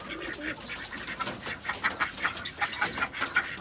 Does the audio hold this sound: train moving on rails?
no